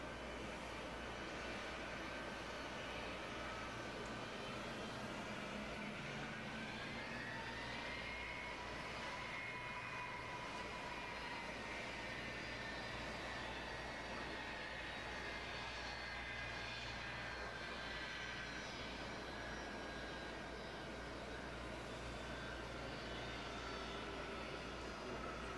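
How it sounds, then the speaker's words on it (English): Air Force One, a large jet, taxis at Wheeler-Sack Air Force Base at Fort Drum, giving a steady loud engine roar with a slowly shifting whine that rises and falls over a broad rumbling wash. "we watch Air Force One make its way over to the crowd where President Trump"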